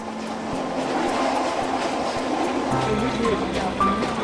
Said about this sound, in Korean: 서민들이 주로 타는 가장 저렴한 열차죠